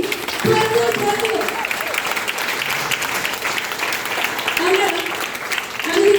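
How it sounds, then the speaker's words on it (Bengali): Applause from an audience at a Smart Value training event in Tripura, steady dense clapping running through the whole stretch with voices talking over it. "তো ওদের জন্য একটা জোরদার হাততালি"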